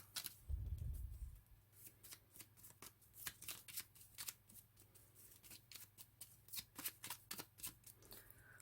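A deck of Lenormand fortune-telling cards is shuffled at close range, with a quick run of crisp riffling flicks and soft slaps that repeat steadily throughout, preceded by a brief low thump.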